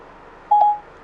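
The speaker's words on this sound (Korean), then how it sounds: "그래서 여자친구에게 전화를 걸고 있습니다" A single short electronic call tone beeps once, clear and steady, as a phone call is placed by voice command inside a Cadillac ATS, otherwise quiet.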